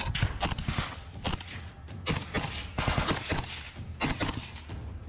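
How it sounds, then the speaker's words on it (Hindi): Rapid bursts of AK-47 assault rifle gunfire from a bunker in the Russia-Ukraine war crack repeatedly, loud and close, in uneven volleys with no talking. "यूक्रेनी सेना का एक फौजी अचानक बंकर से अपनी AK-47 असॉल्ट राइफल से ताबड़तोड़ गोलियां बरसाना शुरू कर देता है"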